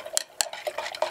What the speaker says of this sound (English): And we're going to stir that up.